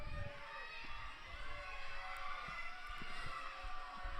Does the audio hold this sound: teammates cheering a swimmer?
yes